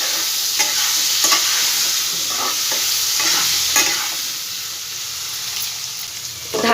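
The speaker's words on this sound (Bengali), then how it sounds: "আলুটাকে একটু লাল লাল করে ভেজে নেব।" Potatoes frying in oil with salt and turmeric, a constant bright sizzle with periodic scrapes and stirs of a utensil against the pan, close up and fairly loud.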